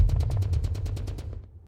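A pagoda explodes in battle with a rapid burst of about ten sharp cracks over a heavy low rumble, fading out quickly to near silence.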